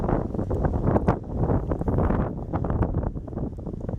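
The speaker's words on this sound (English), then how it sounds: "Yeah, it's already getting windy." Steady lakeshore wind at Whitefish Point, Michigan buffeting a microphone, a loud low rumble of gusts that rises and falls throughout with no clear talk.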